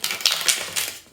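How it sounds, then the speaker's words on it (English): A tarot card deck is riffled quickly, giving a short burst of dense, crisp rapid clicking and rustling that stays close and fairly loud, with no voice over it. "shuffle the whole deck really fast"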